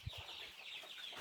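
Chickens at their feed give faint, soft clucks in a short quiet burst, with a low thump near the start and no talking.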